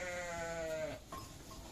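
A Dorper sheep bleats once in a long, wavering call that trails off, followed by quieter farmyard stirrings, with no talking.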